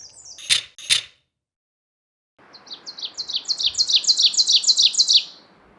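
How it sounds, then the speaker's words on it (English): Two male black-throated green warblers chip at each other over territory at the Orono Bog Boardwalk: a couple of sharp calls, a pause, then a rapid run of bright chips over steady outdoor background noise. "There's 2 male black-throated green warblers arguing about this territory. So they're just chipping at each other."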